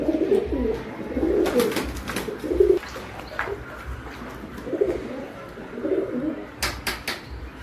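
Pigeons coo in soft, repeated low phrases nearby, with a few brief flutters and rustles between the calls.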